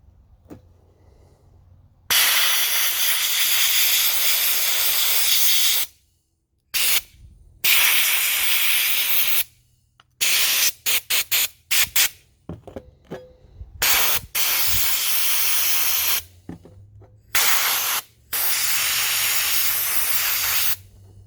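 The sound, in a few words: sandblaster spraying sand on Corvette parts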